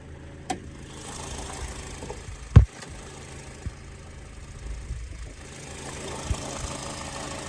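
A four-cylinder Honda VTEC car engine idles steadily with a low, even hum, punctuated by a few sharp clicks and knocks.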